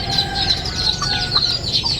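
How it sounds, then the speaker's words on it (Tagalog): Bantam chickens clucking repeatedly in quick, irregular bursts, close and fairly loud over a faint outdoor background. "Isang manok"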